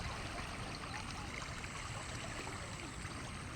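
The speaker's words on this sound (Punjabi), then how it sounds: "ਗੋਲੀ ਦੇ ਵਾਂਗ ਪਾਣੀ ਦਾ ਤੇਜ਼ ਵਹਾਅ ਸਤਲੁਜ ਦਰਿਆ ਦਾ" The fast-flowing Sutlej river, swollen with floodwater, gives a steady, faint rushing sound without a break and without voices.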